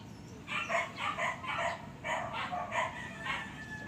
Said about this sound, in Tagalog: Medyo maingay yung mga aso